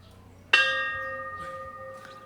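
A single bell strike at a mountain castle rings out clearly and sustains a long, slowly fading tone with bright overtones, followed by faint distant sounds.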